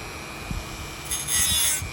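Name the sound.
Dremel rotary tool cutting a channel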